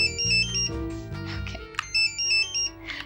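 A phone ringtone plays a bright, repeating electronic melody in short tonal bursts, loud and close, with a brief break midway before the tune resumes.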